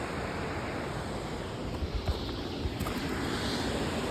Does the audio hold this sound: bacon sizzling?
no